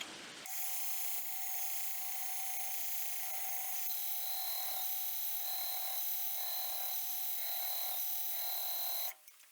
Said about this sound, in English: I'm going to have to take them over the grinder and get them nice and flat